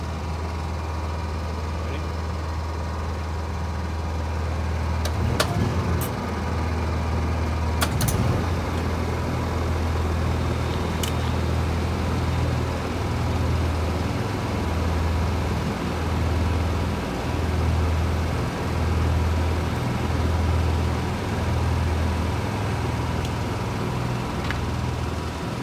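Two Honda generators linked in parallel run a soft serve machine, producing a continuous low engine drone with a few sharp clicks and knocks nearby.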